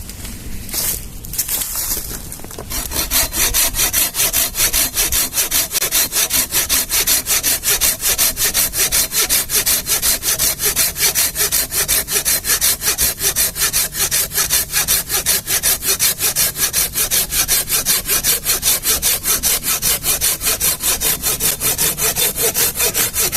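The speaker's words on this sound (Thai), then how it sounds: "เดี๋ยวมาเลื่อยไม้กันนะครับ ใหญ่กว่าแขนเนี่ยครับ ท่อนมะม่วงแห้งๆนะครับ โดยใช้เลื่อยคาว 380 มิลนะครับ" A 380 mm Crown hand saw cuts a dry mango log thicker than an arm with fast, steady back-and-forth rasping strokes, loud and close, continuing without pause after a few hesitant opening scrapes.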